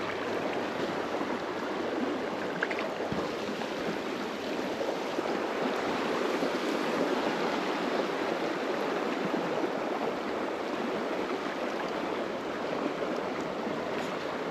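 Rough river water rushes steadily at a fly-fishing spot, a dense, continuous broadband roar that stays loud and even throughout, with no voices.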